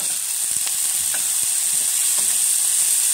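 Small pieces of pork hit a hot pan of sautéed onion and garlic, setting off a loud, continuous sizzle with occasional stirring scrapes, heard close up and without speech.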